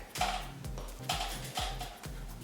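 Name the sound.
ratchet tightening bolts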